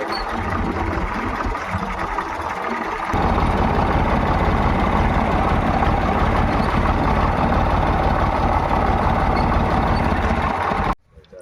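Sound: tractor engine running over the threshing floor

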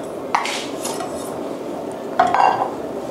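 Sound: palm sugar added to pot to melt over fire

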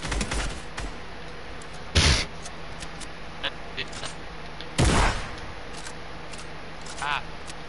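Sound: gunfire from guns in the video game Fortnite

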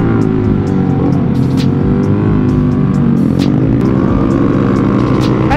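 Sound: loud motorcycle engine revving

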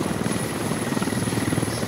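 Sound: helicopter hovering in a military shooter video game

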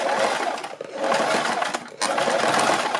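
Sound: sewing machine stitching a kurti neck

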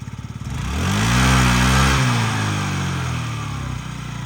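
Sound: Yamaha Jog SA39 fuel-injected scooter engine running

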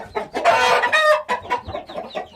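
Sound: young Hint breed rooster clucking

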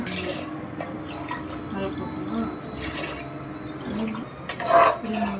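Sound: water being poured into pot

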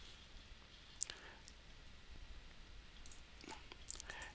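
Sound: computer mouse clicking

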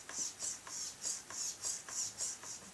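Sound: rudder servo moving on Kadet LT-40 model airplane

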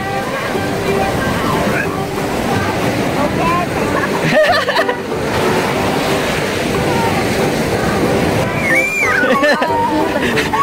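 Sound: waves at the seaside

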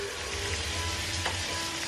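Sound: meatloaf ingredients frying in butter

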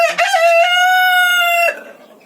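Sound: chickens clucking and rooster crowing

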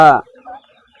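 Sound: tiger breed chickens clucking on a farm

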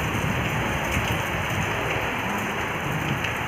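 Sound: rain falling on a hill

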